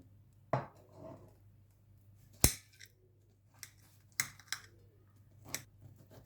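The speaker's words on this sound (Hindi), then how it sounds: "अब हम इन्हें रफली चॉप कर लेंगे।" A knife roughly chops peeled eggplants for baingan bharta, producing a handful of crisp, irregular chopping thuds against a board, spaced apart with short quiet gaps, close up and without speech.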